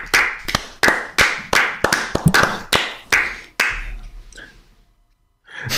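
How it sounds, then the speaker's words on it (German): A small audience applauds Markus with rhythmic clapping, sharp even beats in a steady pulse that carries for a few seconds, then tapers off into near silence before a final sound. "Ein Applaus für Markus."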